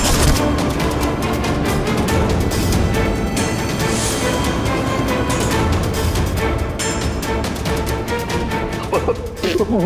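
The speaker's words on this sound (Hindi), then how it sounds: "हम लोग तो कबूतर पे गोली चला रहे थे सर" Rapid, sustained gunfire from a crime drama TV scene fills the whole stretch, loud and dense, with faint voices near the end.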